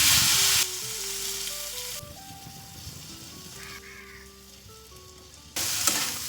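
Ginger-tomato paste fries in oil with bay leaf, whole garam masala, cumin and dried red chilli, a loud close sizzle at the start and end with a softer stretch between, under background music.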